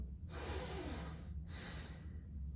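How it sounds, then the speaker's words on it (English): Two slow, close breaths pass in and out through the nose during a stress-relief breathing exercise, each one a soft, airy rush separated by a short pause. "we're going to take 6 breaths in and out through the nose"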